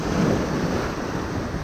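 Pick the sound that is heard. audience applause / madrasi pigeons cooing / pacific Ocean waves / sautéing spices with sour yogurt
pacific Ocean waves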